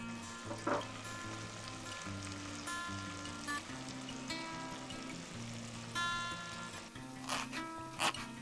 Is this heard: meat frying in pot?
yes